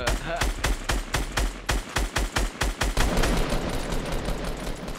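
Fortnite gunfire: a rapid burst of loud automatic shots in quick rhythmic succession, then a dense sustained rattle of firing and impacts, no talking.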